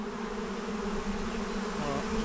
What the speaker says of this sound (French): Et là c'est vraiment des milliers d'abeilles qui volent.